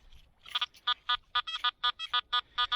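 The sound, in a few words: metal detector signal tone on beach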